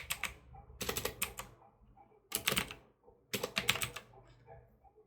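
Laptop keyboard typing a search query, heard as several close bursts of rapid key clicks with short pauses between them.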